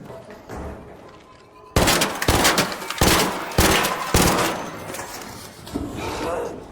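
Gunfire in the ARC Raiders video game comes as a series of loud, sharp bursts and shots spaced through the stretch, with someone speaking quietly near the start.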